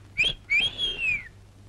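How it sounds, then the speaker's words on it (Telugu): A person whistles two rising-and-falling tones in a comedy film scene: a short chirp followed by a longer sustained note that glides down, clear and close with no talk. "మీకు విజిల్ వేయడం తెలుసా?"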